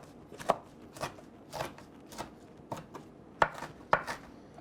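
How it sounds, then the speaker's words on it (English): Spinach and kale leaves roughly chopped on a cutting board, about nine distinct knife thuds at an irregular, unhurried pace, close and clear with no talking. "So we'll kind of do a quick rough chop on here."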